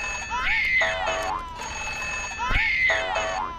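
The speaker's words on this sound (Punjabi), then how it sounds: "ਉਹ ਆ ਦਾ ਫੋਨ ਆ ਗਿਆ।" A telephone rings in a Punjabi comedy film scene, two warbling electronic rings about two seconds apart, loud and close, with no one talking over them.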